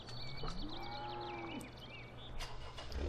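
A cow moos in Farming Simulator 2013, its drawn-out low call rising and falling over a steady engine hum and background game noise, with no talking.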